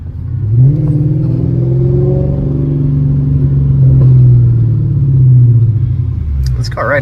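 A Mercedes E55 AMG engine rumbles loudly and steadily, its pitch rising and holding as the car drives, with a brief clatter near the end.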